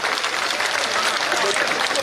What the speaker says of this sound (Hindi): जोरदार ताली बजा के एक बार धन्यवाद ज्ञापित कर दें